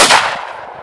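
A single loud shotgun blast fired at a clay pigeon outdoors during a bushcraft shooting session, a sharp close report followed by a short fading rumble.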